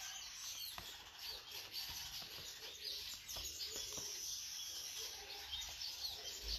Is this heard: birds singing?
yes